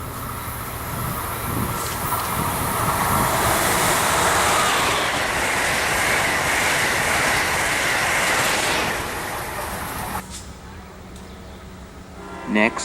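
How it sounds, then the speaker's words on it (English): Amtrak passenger train on the Northeast Corridor passing close by, a loud rolling roar of wheels and cars building and holding for about ten seconds before dropping away, with faint rail clatter afterward. "Minutes later, Amtrak 2255 passed with 2004 and 2018."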